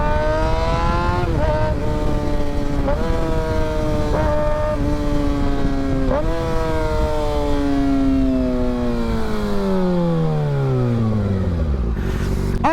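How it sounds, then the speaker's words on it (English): A motorcycle engine revs under throttle, pitch climbing in repeated surges with brief gear-change dips, then dropping in a long sweep; loud, close and continuous with no talk. "I'm already giving it the throttle."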